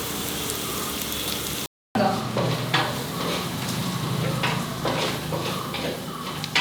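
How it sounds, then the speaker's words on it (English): Ingredients for a Valchi Bhaji curry fry in a pan with a steady, close crackling sizzle, broken by a brief moment of silence and then continuing with stirring clicks. "Let it fry till I go to the mixie and grind this."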